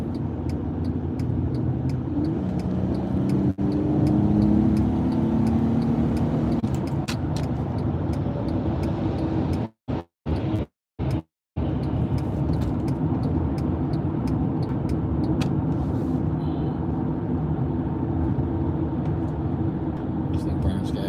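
Steady road noise from a car driving along, a continuous low rumble with brief dropouts midway; a person speaks over it at times.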